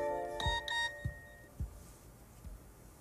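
A phone rings in a domestic scene with a few quick electronic chime tones near the start, followed by soft dull knocks, faint and alone with no voices.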